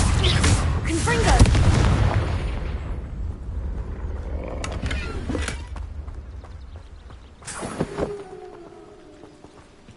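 Confringo blasting spell explosions in Hogwarts Legacy, a loud booming blast up front with rumbling low end, followed by a sharper second burst near the end.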